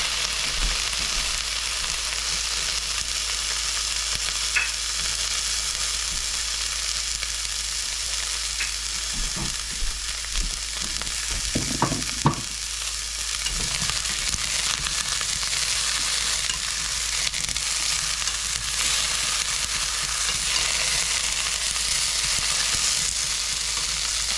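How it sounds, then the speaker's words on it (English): Beet stems and Vidalia onions saute in a pan, a steady hissing sizzle that carries on at an even level, broken by a few clattering stirs partway through, with no talk. "we're going to put the stems in. Okay, and we're going to get those sauteing"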